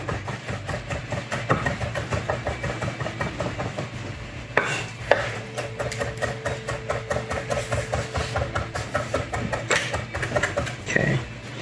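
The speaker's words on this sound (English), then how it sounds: "I'm watching the video at the same time chopping this." Knife chopping ingredients for sushi rolls on a cutting board, rapid steady taps repeating close up, with a low engine-like hum running underneath throughout.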